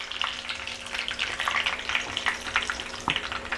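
Curry leaves and small dried red chillies crackle and sizzle in hot oil for a lemon-juice pickle tempering, a close, busy frying hiss with occasional sharper pops and no voices.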